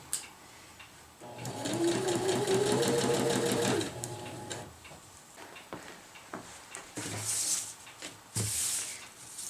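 A sewing machine stitches hammock fabric in a loud, rapid, rhythmic burst lasting about three seconds, then falls silent, followed by softer handling clicks and taps of the fabric.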